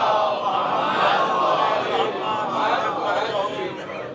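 A congregation at an Islamic religious gathering recites salawat together, a loud mass of overlapping voices chanting in unison, sustained and close throughout.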